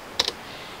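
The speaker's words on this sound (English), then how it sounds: "Type in your password." A few quick keyboard clicks, two or three taps close together, as a password is typed, followed by quiet.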